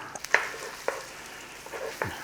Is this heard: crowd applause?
no